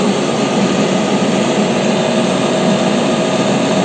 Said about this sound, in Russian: Все, станок сам сверлит